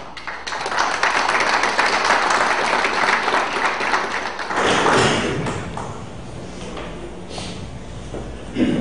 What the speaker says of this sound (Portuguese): vamos receber com uma salva de palmas o administrador Adriano Carlos Ribeiro